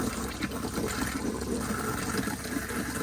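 Water runs steadily from a tap in a caravan as the system fills, a continuous soft hiss and gurgle with no voices over it.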